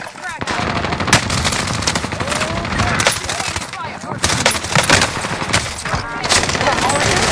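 Sustained automatic gunfire rattles through a battle royale video game match, rapid overlapping shots and bursts running loud and close almost without pause, with a voice talking faintly among them.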